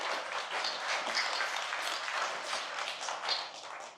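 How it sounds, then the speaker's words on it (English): Applause for the sisters at a community appreciation and celebration lunch, a fairly faint, distant patter of many hands clapping that swells slightly and then tapers near the end. "Can we have a big round of applause for all the sisters?"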